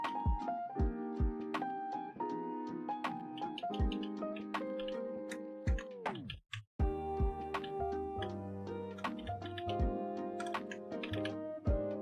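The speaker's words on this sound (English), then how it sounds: "you get to hear all my my shitty keyboard" Steady clicking of keys on a computer keyboard, close up and continuous, with a brief pause partway through and no talking.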